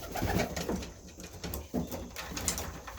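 Show homer pigeons coo inside a loft, soft, throaty calls rising and falling close by in short overlapping bursts.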